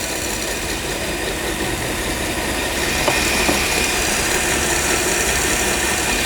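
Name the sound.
mixer speeding up while sugar is poured onto egg whites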